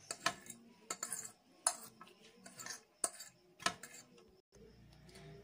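Chopped capsicum, cabbage, carrot and onion are tossed in a bowl, giving irregular clinks and scraping knocks of a utensil against the bowl, close and fairly loud, with short pauses between strokes.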